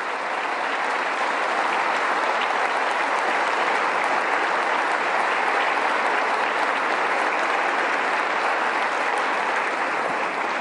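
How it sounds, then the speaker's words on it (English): Sustained, dense applause from a large audience at a state governmental address, steady and loud throughout with no pauses, as a crowd in a chamber claps continuously. "if you could give her a great big round of applause"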